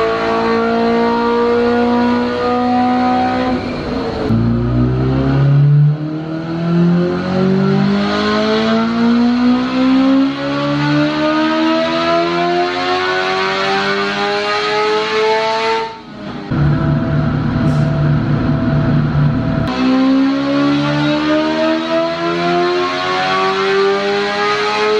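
A tuned Kawasaki Ninja H2 supercharged motorcycle on a dyno, with repeated long wide-open pulls whose engine whine climbs steadily in pitch, loud and close, broken by brief drops between runs.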